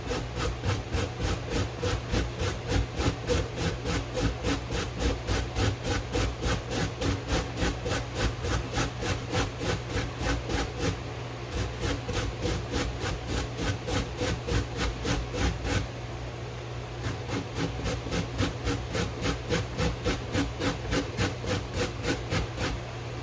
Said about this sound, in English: Be careful of how you grate because you don't want to grate your fingers.